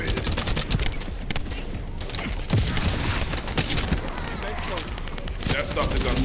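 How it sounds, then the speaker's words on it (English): Gunfire in the video game The First Descendant crackles in rapid bursts and sustained volleys, fairly loud and close, mixed with other game sounds. "That stopped the gunfire."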